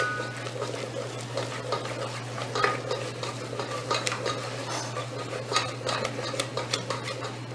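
Choux pastry dough made with flour, stirred as it cooks in a pan, with repeated scraping and thudding of a utensil against the pan over a steady low hum, close and continuous.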